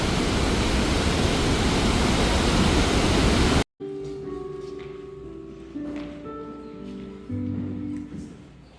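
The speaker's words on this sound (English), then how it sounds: "about 6 million of liters of water is going down every other second." The Iguaçu waterfalls roar as a loud, steady, broadband rush of falling water for several seconds, then cut off abruptly to quieter background sounds with faint tones.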